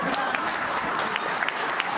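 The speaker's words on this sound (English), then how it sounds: "The clap is too small" Crowd applause at the launch of a regional expo, steady clapping from a sizable audience heard at moderate distance, continuous and even throughout with scattered sharper claps standing out.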